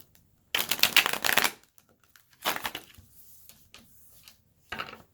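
Tarot cards are riffled in three separate shuffles, each a quick, crisp flurry of flicking paper, close and fairly loud against a quiet room, with no talking.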